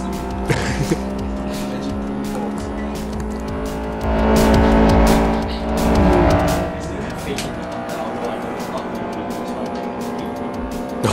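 A Honda hatchback races in a C Class hatchback event in the video game Forza Motorsport 4, its engine droning and revving steadily with a louder surge midway, under voices talking over the gameplay.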